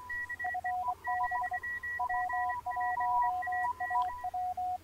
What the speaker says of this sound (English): And these tones are going to be set at the level of the side tone.